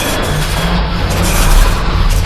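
A horror-story effect of an elevator crashing down: a loud, dense roar of rumbling, grinding noise that fills the whole stretch without letup, with deep booming undertones.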